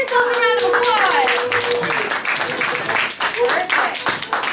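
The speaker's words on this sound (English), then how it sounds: "Give yourselves a round of applause." An audience at a Disney World show breaks into a round of applause, dense quick clapping from many hands nearby, mixed with a few high children's voices.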